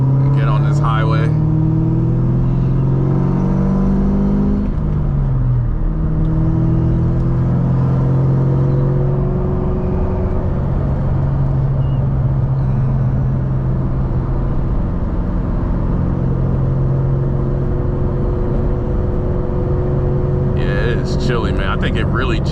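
A 500 hp 2003 Cobra engine rumbles steadily as the car drives onto a highway, a loud, continuous low drone with a few rises in revs, while someone talks over it throughout.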